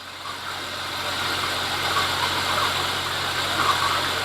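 Jeep XJ engine running at a steady idle, a constant close mechanical hum with faint blowing air, unchanging throughout and with no talking.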